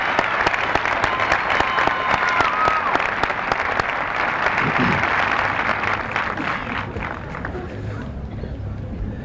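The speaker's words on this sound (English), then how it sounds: "I would like to lead you in a collective big round of applause" A large graduation commencement crowd applauds steadily, dense clapping filling the space for several seconds before tapering slightly toward the end.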